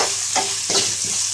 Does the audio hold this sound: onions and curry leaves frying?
yes